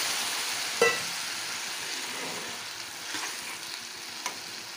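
Ash gourd fries in a covered pan, giving a steady, even sizzle throughout with a couple of faint clicks of a utensil against the pan.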